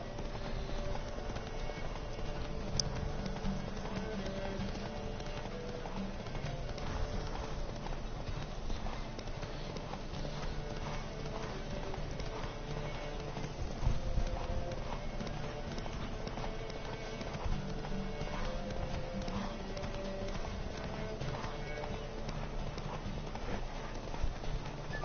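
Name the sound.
horse hooves galloping in video game Witcher 3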